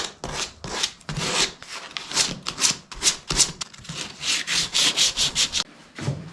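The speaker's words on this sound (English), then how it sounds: "first step is to lightly sand it and scuff up the surface." Hand sanding of a dinghy's surface, a light scuffing pass made in quick strokes. The rhythmic rasping comes close and clear, with no talk over it.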